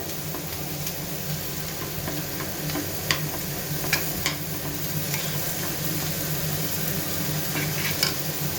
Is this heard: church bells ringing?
no